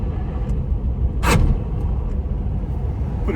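A Suzuki Samurai rolls along on a test drive, a steady close engine and road rumble throughout with one brief louder whoosh or thump partway through.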